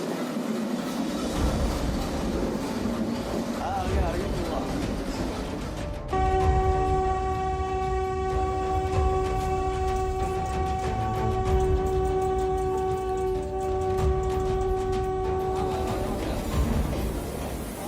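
A train rolls past on the tracks, its horn blaring in long sustained tones for most of the pass, over a steady rumble of wheels on rails.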